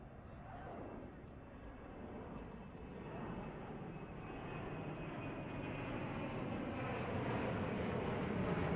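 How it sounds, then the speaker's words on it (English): Aeroplanes pass overhead at a polocrosse ground, a broad engine rumble that grows gradually louder over several seconds under quiet background voices. "We've got the aeroplanes flying over the top."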